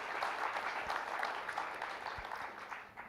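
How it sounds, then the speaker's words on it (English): An audience at a consumer tech summit claps for panel discussion guests, a full, steady round of applause that fades slightly toward the end. "join me in giving a round of applause to these gentlemen, our panel discussion this afternoon"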